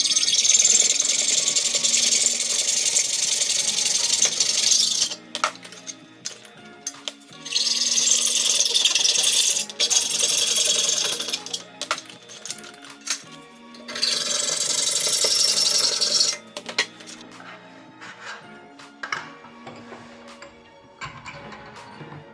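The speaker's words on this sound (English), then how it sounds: "I'm now going to use the hacksaw." Hacksaw cutting through PVC trunking clamped in a vise, bursts of rhythmic rasping strokes close by, separated by short pauses and lighter scraping.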